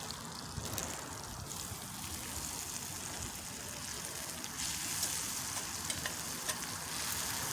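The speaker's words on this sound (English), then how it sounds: "I'm going to use the fork part to flip my steak here. Stir my food." Steak frying on a camp stove in the outback, a steady close sizzle with faint scraping as a fork turns the meat.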